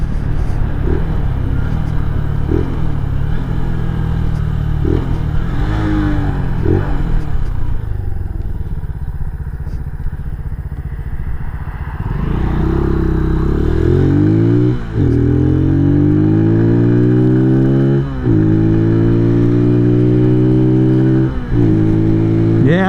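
A 2023 Venom SS3 KP mini 150 motorcycle rumbles loudly and close during a ride. Its engine revs up and down through repeated throttle pulls, with rising whines after a brief easing off.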